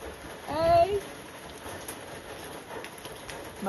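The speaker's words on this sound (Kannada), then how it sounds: "ತಿಂಡಿ ತಿಂತಿದ್ದಂಗೆ ಮಳೆ ಸ್ಟಾರ್ಟ್ ಆಯಿತು" Steady rain falls outdoors around a family home, a continuous broadband patter that holds through the whole stretch, with a brief louder burst near the start and a voice calling faintly underneath.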